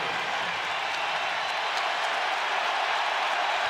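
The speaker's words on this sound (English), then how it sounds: "this crowd is in full throat" A packed basketball arena crowd roars and applauds at Purdue during a Michigan State game, a dense sustained wall of cheering with no breaks.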